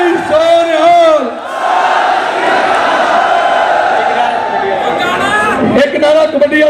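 A crowd at a Punjabi Sikh gathering shouts the jaikara response in one loud, sustained collective roar of many voices, with a single voice calling out briefly before it and again as it fades.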